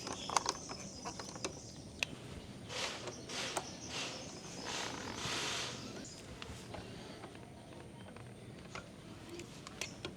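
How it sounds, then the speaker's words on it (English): A ratchet on a Honda CBR 650 rear brake caliper clicks in short quick bursts as the bolts are tightened, faint and close amid small metallic handling noises. "So we can tighten all the bolts back."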